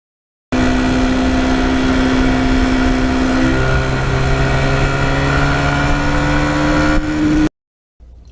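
A 1977 Yamaha RD400 two-stroke motorcycle engine revs up close and loud, holding a steady buzzing drone with a pitch shift midway before cutting off abruptly.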